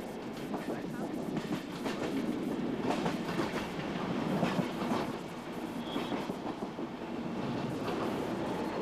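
A passenger train rolls steadily along the rails with a continuous rumbling roar and faint rhythmic clatter of the wheels, heard from inside at a constant, fairly loud level without pause.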